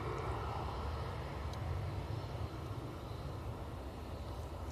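An EasyJet airliner taxis across an airport apron, its engines a steady, distant low roar and hum that holds evenly throughout with no voices over it.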